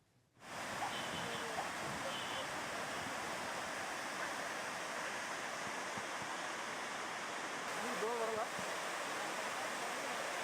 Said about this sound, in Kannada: ರಾತ್ರಿ ತೆಲಂಗಾಣಕ್ಕೆ ರಾಜ್ಯದ ನೀರು ಹೋಗ್ತಾ ಇದೆ.